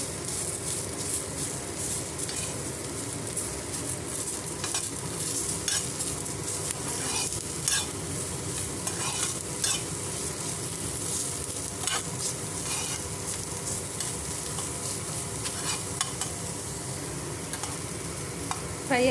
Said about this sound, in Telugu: చింతపండు కొద్దిగా పచ్చి వాసన రాకుండా ఫ్రై చేసుకుందామండి.